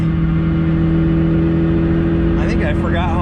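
Engine of a 750 hp BMW 135i heard from inside the car, a steady low drone with harmonic hum held throughout, rising briefly near the end under a short burst of talk.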